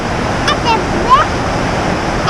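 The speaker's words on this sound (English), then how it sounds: "a big waterfall" A steady roar of falling water from a large waterfall in a New York gorge fills the scene, with brief voices calling out over it.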